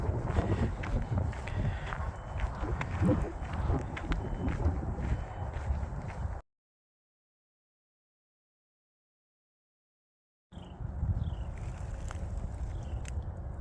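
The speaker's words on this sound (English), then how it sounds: "It's getting a little windy out here." Wind gusting against a microphone outdoors, a steady rough rumble with some rustling, cutting out into silence for several seconds before returning.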